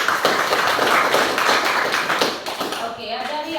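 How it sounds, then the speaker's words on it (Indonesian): A classroom audience claps steadily and briskly after a group presentation, the dense patter continuing throughout with voices mixed in. "Oke, tepuk tangan."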